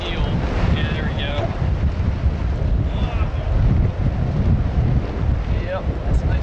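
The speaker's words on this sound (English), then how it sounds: "that's a nice gust" Wind gusts buffet the microphone on a heeled sailboat heading into 14-knot winds, a loud continuous rumbling roar with water rushing against the hull and brief whistling tones, a voice speaking briefly.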